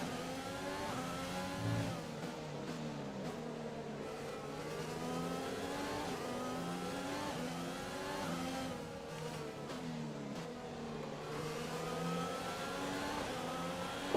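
A Formula 1 race car engine in the racing game F1 2020 screams continuously at high revs, rising and falling through gear changes for the whole stretch, loud and close, with no voices.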